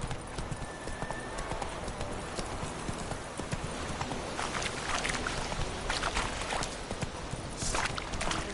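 Roach, the horse in The Witcher 3, gallops with rapid, loud clip-clopping hoofbeats throughout, a busy driving rhythm with only faint background voice.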